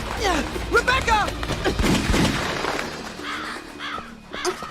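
Flock of crows cawing in the Resident Evil video game, harsh repeated caws bursting out amid gunfire-like cracks and other game sounds, with voices speaking over parts of it.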